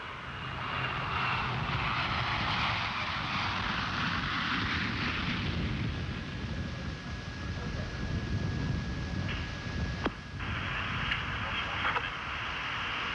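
Space Shuttle Atlantis lands on the runway as a continuous loud roar with wind rush, sustained and broad, with a faint voice underneath and a sharp brief transient near the end.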